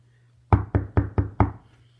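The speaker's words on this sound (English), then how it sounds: "you don't want that knock on the door." Five firm knocks on a door land in an even, quick rhythm, close and crisp against near silence.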